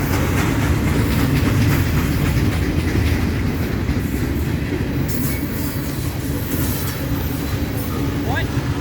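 A freight train hauled by SD40 and GP38 locomotives rolls past close and loud, with a dense rumble and rhythmic clickety-clack of wheels. Faint wheel squeal comes near the end, and people talk under the noise.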